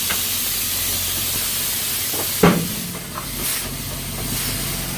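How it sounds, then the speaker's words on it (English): Air suspension airbags on a semi truck dump with a sudden loud hiss that follows a steady background rush, then fades over a second or two into quieter rumbling. "She's going to drop the airbags."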